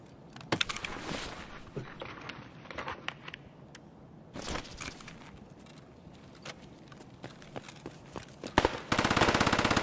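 A PPSH submachine gun fires nearby in Escape from Tarkov, with scattered bursts of rapid shots and clicks over the first few seconds, then a fast sustained volley at the end.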